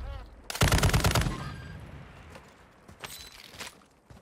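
Video game gunfire: a loud, close rapid burst of automatic shots lasts nearly a second, then a few fainter isolated shots and clicks follow over a quiet background.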